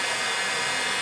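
A heat gun blows hot air steadily while horns are being moulded, a continuous breathy whoosh held at a constant level close by.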